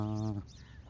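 A bird gives a single short, nasal honking call close by outdoors in Saudi Arabia. The call breaks off quickly into quiet background air.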